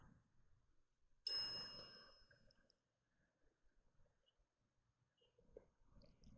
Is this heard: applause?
no